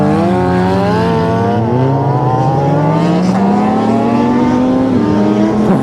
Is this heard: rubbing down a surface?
no